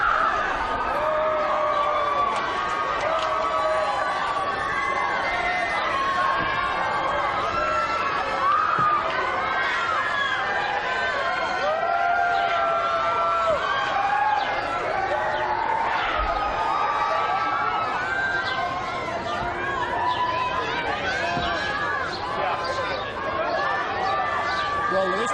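A large crowd of Michael Jackson's fans, on 13 June 2005, cheers and chatters in a dense, continuous swell of voices with scattered shouts and laughter, and a voice speaks over it.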